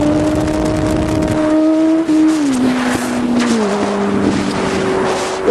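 Steady engine drone of a car on the road to the gym, with gear-shift pitch steps and continuous road and tire noise throughout, close and fairly loud, no talking.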